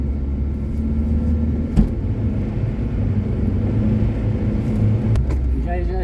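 Car engine rumbling steadily as it accelerates on a winter mountain road in Dagestan, a loud continuous drone close by, with brief voices and a sharp knock partway through.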